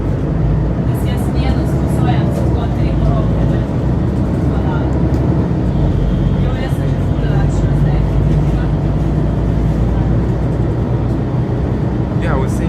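Mercedes-Benz Citaro G articulated bus from 2006, riding in Ljubljana, heard from inside: a steady loud low engine and road rumble with rattles throughout, and people talking over it.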